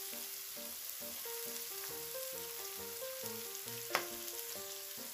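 Ginger added to a frying pan of translucent onions while cooking beef pares, a steady faint sizzle and crackle beneath music, with a single brief clatter.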